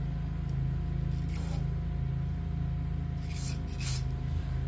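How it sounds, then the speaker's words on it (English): Several short hissing bursts of carburetor cleaner being sprayed on a Craftsman 5 hp tiller, over a steady low mechanical hum. "But what I'm doing is just spraying everything"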